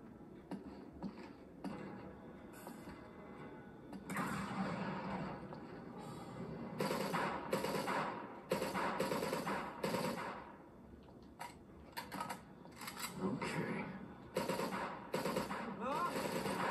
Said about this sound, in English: Look how many goddamn fucking shots I've had to put into them.